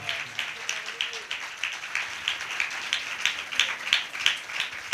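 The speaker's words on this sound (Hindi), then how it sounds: "एक बार तालियों के साथ उसको धन्यवाद दें" A church congregation claps together at a Christmas Eve meeting, a steady dense patter of many hands in a room, with a voice talking over the applause.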